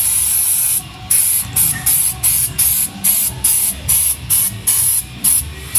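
Spray of grease or coating hitting cracked, chewed-up ATV plastic on the back side of a four-wheeler, loud and close, in repeated bursts roughly every half second with brief gaps between them.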